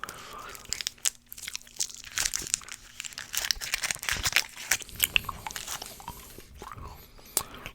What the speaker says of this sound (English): Get another piece of bubble gum.